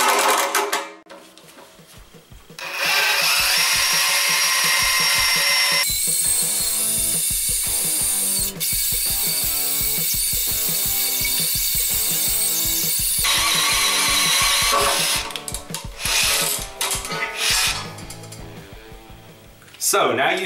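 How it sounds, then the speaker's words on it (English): A loud drill with a 13/16-inch carbide-tipped hole cutter grinds through thick steel with a rough, ratcheting mechanical chatter, starting after a short lull and running steadily before tapering off near the end. "the hole I'll be drilling is going to be a 13/16 hole with a carbide tip hole cutter"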